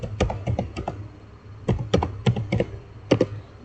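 Commands are typed on a computer keyboard to configure a Cisco switch, quick close clusters of crisp key clicks separated by brief pauses, with no talk.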